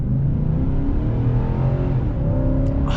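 A 2021 Nissan Titan Pro-4X pickup truck accelerates from a standstill, its engine note loud and close, climbing through the gears with a smooth shift midway, and no speech.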